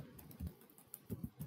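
A computer keyboard typing a short bit of text, with a few soft, close key taps in small clusters over a low room hiss, quiet overall and with no speech.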